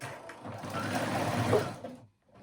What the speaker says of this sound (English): I like to go to my sewing machine, fold that tail right over my seam right there, and just zigzag stitch it on.